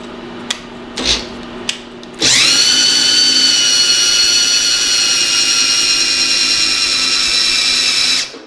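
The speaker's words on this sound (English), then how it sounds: "Poor little drill sounds like it's going to die by the time it gets to the top" A few faint knocks, then a small electric drill, used as a machine feed, whirs up loud and runs steadily at a high, strained pitch for several seconds before stopping.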